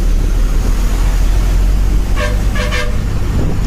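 A Chandralanka–Kothurulanka village bus on the road, engine rumbling steadily with a couple of short horn toots near the end.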